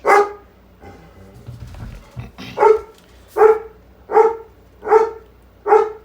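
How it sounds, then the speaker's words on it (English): A dog barks five times in a steady, evenly spaced series, fairly close and loud, after a stretch of quieter low rumbling. "Maybe she's barking at Leaf Blower Man"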